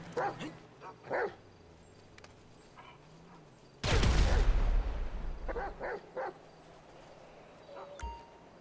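Chop the dog in GTA V barks and yips in short bursts, with one loud burst of barking partway through, mixed with whimpers and game sounds.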